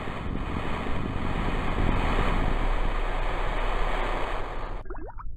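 Surf at the shore after a splashdown in Kerbal Space Program, a steady loud wash of waves and wind-like noise that cuts off abruptly near the end, no talk.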